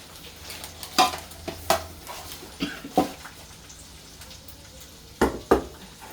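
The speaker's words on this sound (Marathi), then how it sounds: "आता हे बघा लसूण मिरची लसूण सगळं व्यवस्थित चांगलं तळून झाले" Garlic and green chillies fry in a pan with a soft continuous sizzle, broken by several loud scraping strikes of a spoon stirring against the metal, close and without speech.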